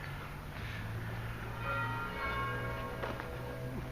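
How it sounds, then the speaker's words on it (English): Catholic church bells ring for morning mass in the distance on Rigenis Street, Nicosia, Cyprus, faint tolls blending with a steady low hum and background noise, with no voices heard. "We can actually hear the bells from the Catholic Church."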